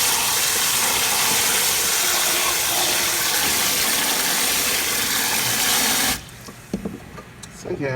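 Tap water gushes steadily and loudly into a pot of rice being rinsed, a dense continuous splashing rush that cuts off abruptly near the end, leaving quieter clatter and faint handling.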